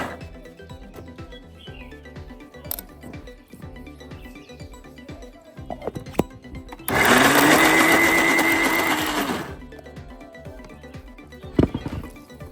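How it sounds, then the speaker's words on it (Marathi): Mixer grinder grinding soaked wheat with a little water, a loud whirring burst of about two and a half seconds midway, framed by quieter kitchen clinks and knocks before and after. "अशा पद्धतीने गहू वाटून घ्यायचे."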